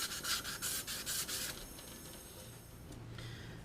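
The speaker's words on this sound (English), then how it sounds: "I'm going to go ahead and wet sand the edges of this" Edges of a carbon fiber part being wet sanded by hand, close rhythmic rasping strokes in quick succession for about a second and a half, then a softer steady scrubbing hiss.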